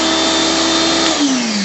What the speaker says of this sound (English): this is my crappy pressure washer